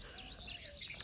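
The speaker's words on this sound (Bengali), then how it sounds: "পাখির সাউন্ড দেখো" Village birds chirp in quick, high tweets and brief trills, several overlapping within a single second. They sound fairly close against quiet surroundings.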